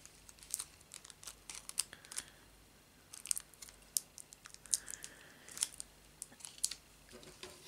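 Adhesive tape is handled while building an R2-D2 model kit, giving a series of sharp crinkly peeling and sticking crackles, close and fairly quiet, with short bursts spread irregularly across the stretch.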